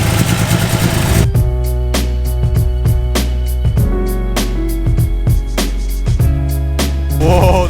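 A Mitsubishi Evo engine in a garage fires up with a loud burst, then settles into a deep idle broken by repeated sharp throttle blips and revs, close and loud.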